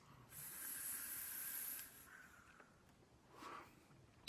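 A vaper draws on an e-cigarette filled with a 50/50 coconut-flavoured Bordo2 Jet Lag liquid at 3 mg nicotine, producing a close, bright hiss that lasts a couple of seconds and then a softer second puff follows.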